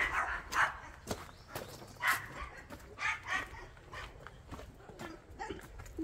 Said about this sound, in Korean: 누가 오신 것 같은데, 강아지들 알립니다.